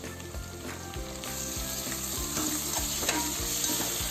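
Onion and carrot stir-frying in a pan for restaurant-style vegetable noodles, a steady close sizzle with rhythmic scraping and tossing strokes of a spatula repeating throughout.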